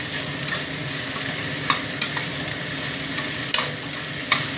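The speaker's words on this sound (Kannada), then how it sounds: "ಉಪ್ಪು ಹಾಕಿ ಚೆನ್ನಾಗಿ ಫ್ರೈ ಮಾಡ್ತೀನಿ." Soaked puffed rice frying in oil with salt in a pan, a steady sizzle with occasional scrapes and clinks of a spoon stirring through it.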